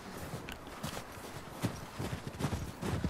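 Horse hooves clip-clop at a walking pace in The Last of Us Part II, a steady irregular patter of moderately close steps over a dense outdoor ambience.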